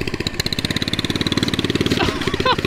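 A turbocharged limousine-style go kart engine runs close by with a fast, steady, throbbing idle pulse that continues throughout, with a brief voice-like sound near the end.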